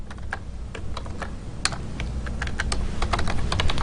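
Code is typed on a computer keyboard in quick, irregular bursts of crisp key clicks, close and clear over a low background hum, with no speech.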